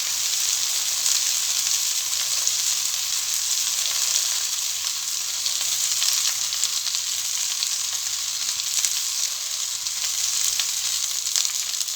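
Fenugreek seeds frying in a pan for a dosa chutney make a dense, steady, bright sizzle that holds without pause, close and loud, with no voices.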